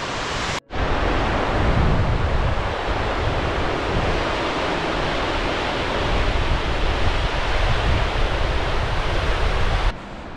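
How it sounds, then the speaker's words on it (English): Water pours over the Elan Valley dam in a loud, continuous roar of rushing spillway water heard close up, steady throughout with no voices. "As you can see, the water's overflowing, just like the camera said it was."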